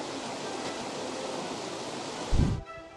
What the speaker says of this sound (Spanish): Esta es la quebrada Babilonia, también en la cuenca del río Chuza, y también alimenta el embalse.